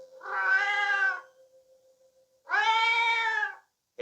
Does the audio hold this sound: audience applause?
no